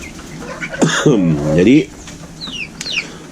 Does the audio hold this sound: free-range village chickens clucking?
yes